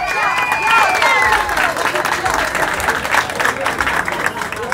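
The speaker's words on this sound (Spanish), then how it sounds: "Un aplauso para ella." Dense crowd clapping at a Christmas tree lighting ceremony in Sosúa fills the space, loud and continuous, with shouts and cheering voices rising over it.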